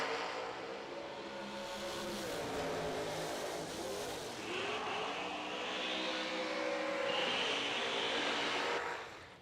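A drag race car roars through a pass at a drag strip, the engine note sweeping and holding loud for about nine seconds with tire noise and a broad crowd-track wash beneath, before cutting off sharply at the end.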